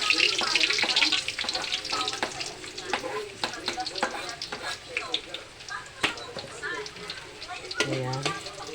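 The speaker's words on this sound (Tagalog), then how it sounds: "pwede na po nating igisa ang ating bawang" Garlic sizzles steadily in hot cooking oil, a close, continuous crackle broken by scraping stirs, with someone speaking over it.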